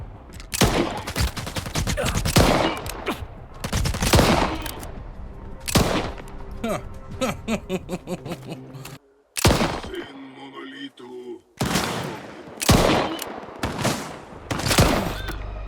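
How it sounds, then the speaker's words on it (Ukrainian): Pistol gunfire in the video game S.T.A.L.K.E.R. 2, a series of loud, sharp shots fired in irregular bursts with short gaps, some shots closely spaced, and brief quieter stretches between volleys. "цей, до речі, набагато тихіше стріляє"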